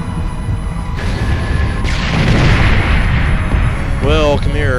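Gunfire and heavy blasts in the video game Gears of War, a loud, dense rumble of shooting and booms filling the scene, with a voice speaking over the top near the end.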